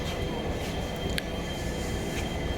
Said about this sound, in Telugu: మిమ్మల్ని తీసుకొచ్చినటువంటి ట్రైన్ ఇదేనండి.